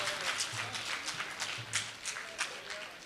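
An audience at a Ramayan conclave gathering claps in steady, moderately distant applause lasting a few seconds, with faint low voices underneath.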